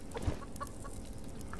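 Chickens in the video game Subsistence cluck softly in short scattered bursts over a low, steady background hum.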